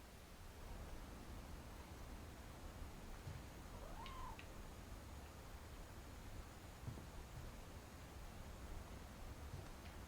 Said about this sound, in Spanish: Digo, ahí hay un gato.